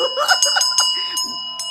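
A small bell rings several times in quick, irregular strikes, each leaving a bright ringing tone that sustains between hits, close and clear with no talk.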